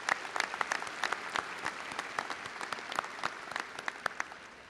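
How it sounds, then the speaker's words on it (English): Graduation audience at The Colony High School applauding, dense continuous clapping with individual sharp claps standing out near the listener, steady and sustained throughout. "Let's give our counselors a round of applause."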